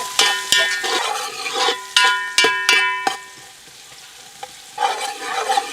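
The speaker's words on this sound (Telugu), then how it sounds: "కోసి పెట్టుకున్న 3 మీడియం సైజు ఉల్లిపాయ ముక్కలు వేసేసుకుందాం. ఇవి బ్రౌన్ కలర్ వచ్చే వరకు బాగా వేయించుకుందాం." Three medium chopped onions fry in a pan for chicken biryani, giving a steady close sizzle broken by sharp metallic clinks and scrapes of a spoon stirring against the pan.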